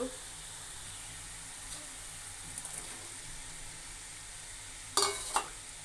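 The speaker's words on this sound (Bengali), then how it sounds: "আমি সবজিগুলো ঢেলে দিলাম এখন আমি সুন্দরভাবে কষিয়ে নেব" Potato and pointed gourd pieces fry in a cooked ginger-garlic spice masala for an egg curry, giving a low, steady sizzle with faint stirring scrapes and a couple of louder clatters near the end.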